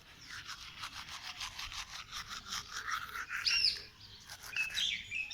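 Teeth brushed outdoors in a garden make quiet, rhythmic scrubbing strokes close by, while birds chirp and tweet in the background.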